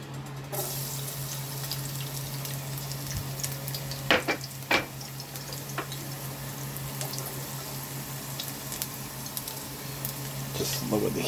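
Garlic frying in a pan, a continuous sizzle and hiss with a couple of sharp knocks of a utensil and a low hum beneath.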